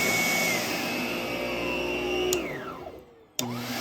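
A Lindhaus Healthcare Pro EcoForce vacuum cleaner running on suction only, a loud steady motor whine that winds down, drops off briefly, then kicks back on abruptly.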